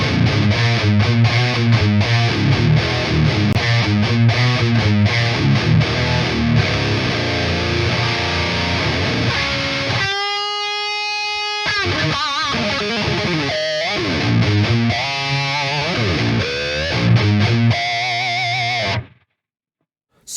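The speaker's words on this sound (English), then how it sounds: "what you're hearing right now is the amp sim boosted by a tube screamer into some V30IRs" Distorted electric guitar run through a Dual Rectifier amp simulation boosted by a tube screamer into V30 cabinet impulses, playing loud, dense riffs with a brief sustained chord section, continuous and up front until an abrupt stop near the end.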